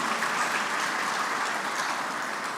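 A large audience at a formal public lecture for a national independence anniversary gives sustained, even applause to an honored guest, a dense continuous wash of clapping with no speech over it.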